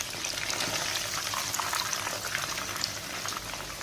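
Chicken pieces frying in a pan over a medium flame until lightly golden, giving a steady, dense sizzle and bubbling that runs evenly throughout with no voices.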